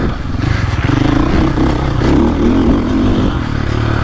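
A 2024.5 KTM 450 Factory Edition motocross bike engine pulls hard under power on a motocross track, a loud, close, continuous roar with rising and falling revs and some clatter from the chassis.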